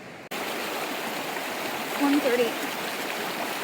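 Steady rushing of the North Umpqua River flowing over rocks, a continuous broadband wash close by, with a brief voice speaking over it partway through.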